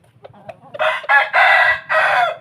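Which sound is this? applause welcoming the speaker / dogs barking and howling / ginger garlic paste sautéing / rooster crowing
rooster crowing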